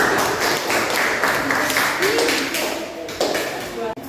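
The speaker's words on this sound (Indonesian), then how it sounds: "Kita beri aplaus dulu untuk kelompok yang" A classroom audience applauds the third presenting group during a teaching practice session, with steady, dense clapping and a few voices mixed in before it thins out.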